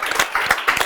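A studio audience gives a round of applause for guest Jake Durtschi, owner of Jacob Grant Property Management, at a Southeast Idaho real estate market update; the clapping is brief, steady and moderately loud, with no talk over it.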